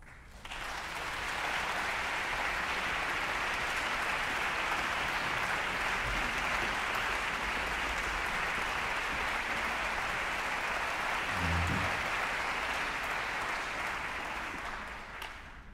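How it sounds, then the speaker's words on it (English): A large audience at a children's choir performance gives sustained, steady applause welcoming the conductor and accompanist, with the dense clapping holding at full strength throughout before tapering off near the end. "let's welcome our music director and principal conductor, Ms. Kathy Kwok, and accompanist Ms. Lin Ching, with a round of applause"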